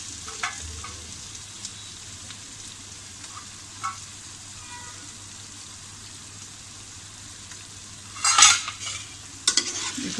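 Boiled eggs in biryani masala being gently sautéed in a pan, a soft continuous sizzle under occasional scraping stirs and a sharper clatter of a spoon against the pan toward the end; no speech.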